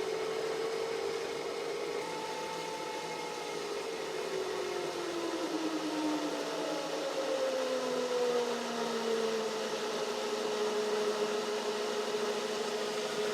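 A waterwheel-driven permanent magnet generator of 4,000 watts hums steadily at moderate loudness while its whining pitch glides and shifts as it speeds up, with a constant background whoosh of water.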